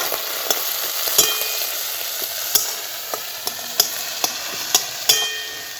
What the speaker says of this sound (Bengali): তো জল দিয়ে এটা নর্মালি এরকম নাড়াতে থাকবো